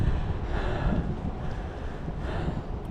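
Strong wind roaring across the microphone in heavy low gusts at the Grand Canyon, loud and close, with no speech.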